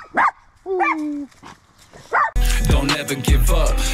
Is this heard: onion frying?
no